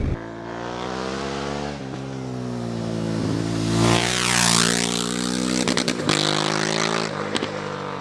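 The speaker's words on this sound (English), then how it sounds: "Listen to that exhaust, it barks." Exhaust of a 2016 Honda Africa Twin motorcycle revving, a loud steady engine drone that swells into sharper blips of throttle near the end, heard close with no talking.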